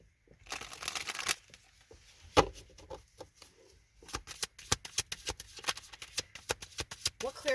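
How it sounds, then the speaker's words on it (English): Tarot cards are shuffled by hand in quick, crisp riffling bursts of papery flicks and taps. The bursts come close together, with a short pause partway through. "let me shuffle"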